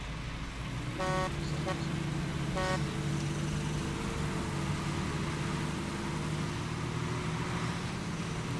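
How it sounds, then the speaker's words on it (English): A military truck drives in the video game Hell Let Loose, a steady low engine rumble with brief horn-like toots near the start, mixed with faint battlefield ambience and some voice. "Pretty easy truck driving"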